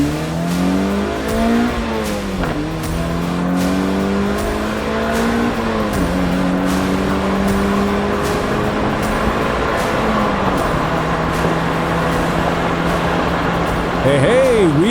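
A car engine revving repeatedly, pitch climbing and dropping through several throttle blips and gear-like sweeps, loud and close, with a brief tire-squeal-like rise near the end.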